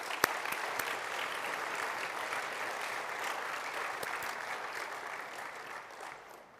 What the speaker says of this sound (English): Let's give Prof. Tyrone a round of applause